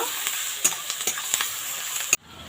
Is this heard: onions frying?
yes